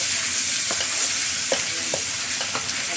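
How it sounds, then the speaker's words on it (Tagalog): Pork humba, Bisayan style, is stirred in a hot pan, with a constant loud sizzle of frying and a few distinct spoon scrapes over it, up close with no talk. "Haluin natin"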